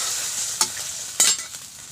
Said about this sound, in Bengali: আমি একটু লবণ হলুদ দিয়ে এটা একটু লাল লাল করে ভেজে নেব